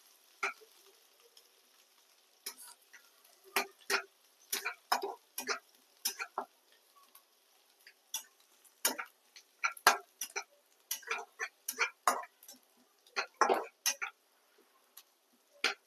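Garlic and onion frying in oil for a leafy greens dish, heard as a faint, scattered crackle of small sizzling pops and ticks with no talk over it.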